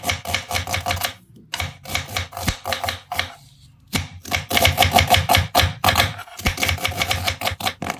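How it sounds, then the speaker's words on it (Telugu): A knife chops onions on a board in fast, close, rhythmic strokes, broken by a few short pauses, with no talking. "ఉల్లిపాయలు కటింగ్ చేసుకుందాం"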